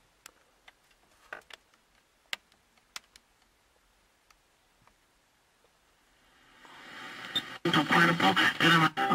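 A newly installed car stereo switches on after a run of faint clicks and ticks, then a radio broadcast swells in, moderately loud and steady, carrying a talking voice.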